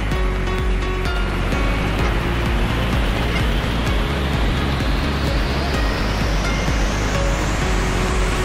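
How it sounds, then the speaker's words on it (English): A waterfall in Yosemite Valley roars as a loud, dense, unbroken rush of falling water, steady throughout with no voices. "You see the waterfall?"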